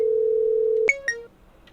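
A telephone dialing tone plays while a conference call is being placed in accessaphone software: a steady continuous tone that cuts off into a couple of brief keypad beeps, clean and alone with no talking.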